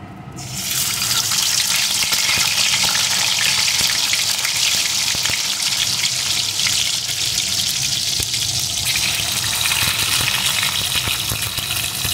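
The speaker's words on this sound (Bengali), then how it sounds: "এখন ডিমটাকে একটু লাল লাল করে ভেজে নেব" Boiled eggs frying in salted oil for an egg papaya curry, a loud, dense, even hiss of hot oil that starts abruptly and carries on steadily without talk.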